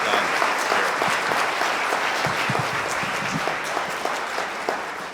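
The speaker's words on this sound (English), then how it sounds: "Give all these guys a big round of applause" Town hall audience clapping in a steady, dense wash of applause for about five seconds, fairly loud and continuous, with no one speaking over it.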